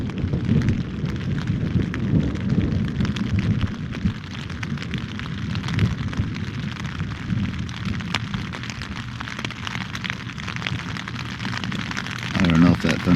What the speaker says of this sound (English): it was a decent clap of thunder. It's starting to rain pretty hard.